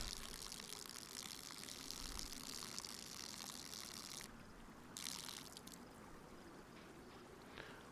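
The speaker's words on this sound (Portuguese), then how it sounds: "Deixa eu esvaziar essa água aqui." In the survival game DayZ, water is poured out of a cooking pot, giving a steady splashing, streaming rush that cuts off abruptly partway through, briefly resumes, then fades to a quieter background.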